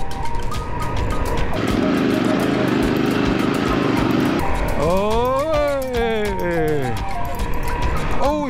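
A motorcycle on a desert sand track drones under wind noise, then revs up and down in several rising and falling sweeps, loud and close, with voices at times.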